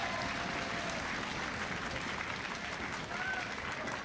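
Steady crowd applause fills a League of Legends esports studio at an LCS spring match, a loud, dense, unbroken wash of clapping and cheering throughout.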